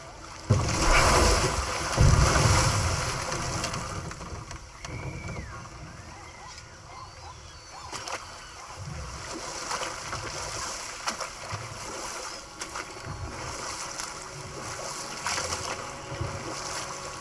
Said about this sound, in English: Waterfall. We're close.